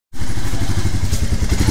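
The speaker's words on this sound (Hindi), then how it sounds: "तो गाइज, ये हमारी बाइक जा रही है सर्विस के लिए" A Royal Enfield Meteor motorcycle engine starts up abruptly and runs with a loud, close, steady thumping beat as the bike pulls away.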